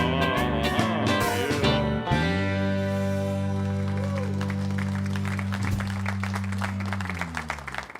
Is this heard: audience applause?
yes